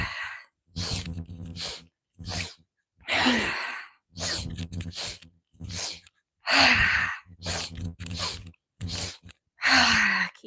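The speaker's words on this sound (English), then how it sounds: "Inhale, inhale, inhale, exhale, release it to the earth." Rhythmic yoga breathing in rounds: three short sharp inhales followed by a longer forceful exhale, repeated several times, close and breathy, with a voice occasionally guiding the rhythm.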